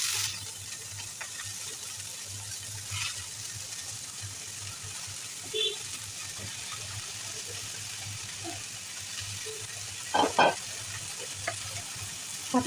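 Greens frying in oil with fried onion and garlic give a soft, continuous sizzle close by, broken now and then by a few brief stirring scrapes and clinks.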